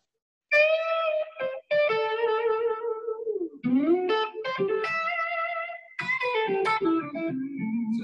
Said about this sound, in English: So it's got that built-in reverb, which I love.